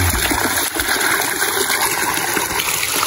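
Cold spring water flows steadily and close by, a continuous gushing stream at a rural water source in the Philippines.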